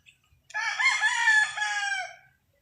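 A rooster crowing once, a loud, close, drawn-out cock-a-doodle-doo lasting nearly two seconds against an otherwise quiet background.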